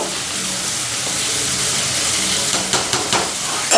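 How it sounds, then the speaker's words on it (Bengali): Spice masala fries in a pan with a loud, dense hiss of sizzling, and a few stirring scrapes come through toward the end. "তো ওইদিকে মশলাটা ভাজা ভাজা হয়ে গেছে"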